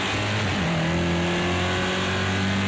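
A race car engine in Project CARS 2 during a BTCC-style touring car race against AI, droning steadily with a gear shift early on, then holding a constant pitch, up close with no talking.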